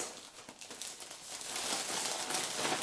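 Plastic packaging of a Halloween window decoration crinkles and rustles as it is opened, close and fairly loud, building steadily louder over a few seconds with no talk.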